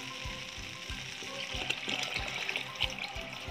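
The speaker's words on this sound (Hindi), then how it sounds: "तो ये चावल भूनने के बाद अब इसमें पानी डालना है।" Water goes into rice that has just been fried for biryani, giving a steady sizzle and splashing hiss with a regular low thumping pulse underneath, heard close and alone.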